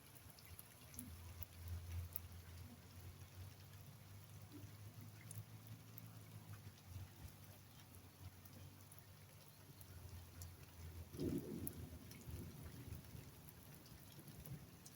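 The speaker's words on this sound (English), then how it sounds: "Hear the thunderstorms." Rain falls steadily during a March thunderstorm, a faint soft hiss with low rumbles of distant thunder rolling underneath, one louder rumble swelling near the end, recorded quietly with no talk.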